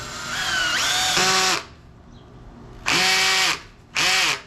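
An electric drill drives a screw in three bursts: a long whirring run that rises in pitch, a pause, then two shorter loud runs, the motor speeding up and slowing down in each.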